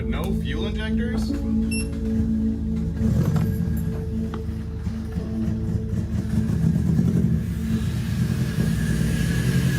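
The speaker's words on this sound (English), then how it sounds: "No injectors plugged in and it's running perfectly." A Toyota Yaris engine idles with no fuel injectors plugged in, giving a steady, rough low mechanical drone with light clatter that holds for the whole stretch while voices talk over it.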